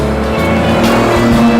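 A 1960s boxy Nissan Skyline GT-R Hakosuka drives fast, its engine loud and close with a strained rising growl and tire noise through a short burst, no talking.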